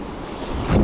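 Wind and surf on a winter shore in Northumberland roar in a steady, broadband rush, the gusts swelling louder near the end, heard up close and alone.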